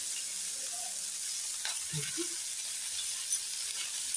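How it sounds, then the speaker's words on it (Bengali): Chicken and potatoes frying in a pan for a chicken curry, with ginger and green chili added: a faint, steady sizzle heard alone, with a couple of soft knocks partway through. "একটু ভাজা ভাজা হয়ে গেলে এর মধ্যে একটু আদা, কাঁচা লঙ্কা একটু বেটে দেবো"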